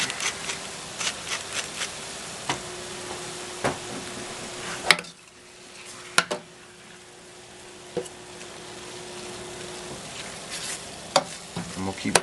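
Ground meat sizzles steadily while browning in a pan, a soft constant frying hiss broken by the sharp clacks of a utensil stirring and scraping at irregular intervals, close by and with no talking.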